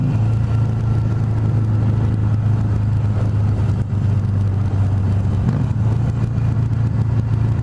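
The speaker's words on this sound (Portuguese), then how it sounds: "Adoro esse barulho desse motor" A Harley-Davidson Sportster 883R motorcycle engine runs close and loud with a deep, throbbing V-twin rumble, revving up and easing back over several seconds, with no talk over it.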